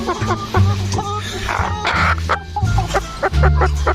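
Chickens clucking on a farm while being fed, with short, busy clucks and squawks up close and people talking and moving around nearby.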